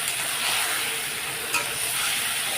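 Poppy seed paste (posto) frying and being stirred in a pan gives off a continuous steamy hiss and sizzle, steady and close, with one brief scrape partway through.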